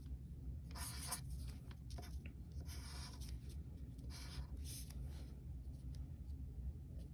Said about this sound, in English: Let's write our problem also vertically, so we can keep track of what we're doing.